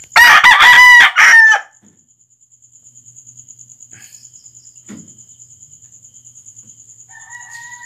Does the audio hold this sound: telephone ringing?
no